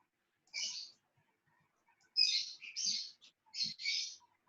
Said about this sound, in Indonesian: Burung siapa sih?